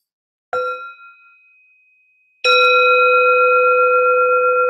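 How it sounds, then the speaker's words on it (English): A meditation bell is struck twice: a first light strike that rings and slowly fades, then a fuller, louder strike whose clear, sustained tone hangs on steadily in a quiet room. "I'll invite the sound of the bell"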